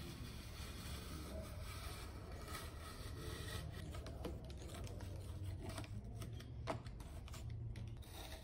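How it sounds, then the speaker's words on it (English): Cutting the edge of a tegular ceiling tile, a continuous close rasping and scraping with small irregular bursts, steady throughout. "I'll need to take that down and cut the edge"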